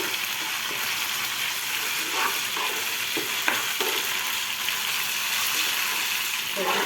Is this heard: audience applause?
no